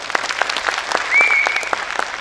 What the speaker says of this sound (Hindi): यहां तक जिसको समझ में आई वो तालियों में बताए।